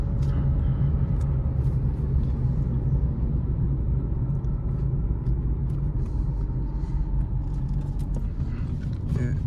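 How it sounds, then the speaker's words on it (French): A car engine drones steadily from inside the cabin as the driver shifts into second gear, a constant low rumble with a slight jolt and some faint clicks, no voices. "Là, vous voyez, je passe la deuxième."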